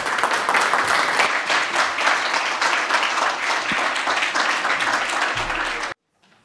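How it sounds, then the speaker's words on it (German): An audience at a presentation on Austria's new film incentive model bursts into loud, sustained applause before a coffee break, many hands clapping densely for about six seconds before cutting off abruptly into near silence. "Applaus"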